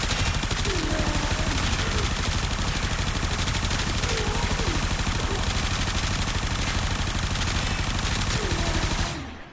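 Supra Vandal weapon in Warframe firing without pause, a loud, fast mechanical stream of shots that holds for nine seconds before stopping abruptly at the end.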